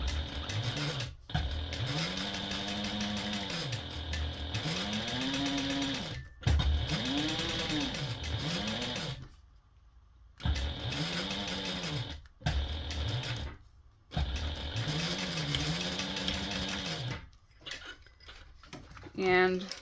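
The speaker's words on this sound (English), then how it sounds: "you're going to start at the bottom and sew over the accordion portion" A sewing machine stitches a fabric binder cover with an accordion section, running in several bursts with brief pauses, its motor whirring steadily and fairly close, while someone talks over much of it.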